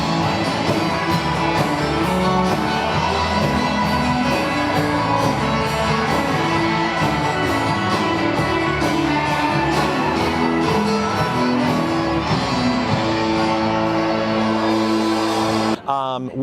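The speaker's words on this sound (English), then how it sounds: "you can hear our band playing and warming up tonight" A volunteer pit band warms up and plays at a comedy fundraiser show, a loud, dense, continuous wash of instruments with crowd noise and voices mixed in throughout.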